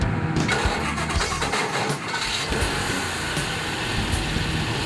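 An engine with a newly installed camshaft cranks and catches, then runs with a rough, loud, steady roar close by, dense and unbroken after the start.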